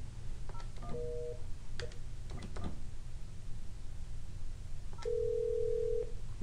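Phone extensions on a business phone system: a few short dial beeps, then a steady ringback tone lasting about a second, heard faint and close with no talking.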